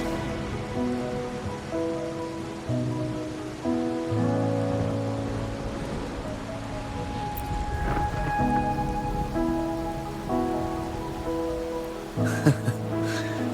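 Steady rain patters on surfaces at night in the game Wuthering Waves, with a distant rumble of thunder beneath soft sustained musical notes.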